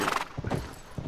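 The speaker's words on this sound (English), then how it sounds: "Yeah, we're horse riding now." Horse hooves clip-clop during riding in The Last of Us Part II, a few uneven thudding hoofbeats close by over a dense, busy game background.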